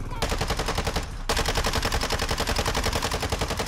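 Mini Bak submachine gun in Modern Warfare II emptying a full magazine: a rapid, steady automatic burst of close, loud shots, a brief pause near the start, then continuous fire to the end.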